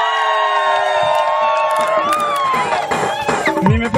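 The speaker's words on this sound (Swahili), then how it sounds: "Vigelegele kwake." A crowd at a Roman Catholic jubilee celebration for a catechist lets out high, wavering ululation that gives way to mixed cheering and shouts, loud and close, growing busier toward the end.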